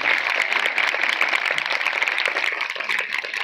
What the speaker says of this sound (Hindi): इस कलाम के लिए जोरदार तालियां।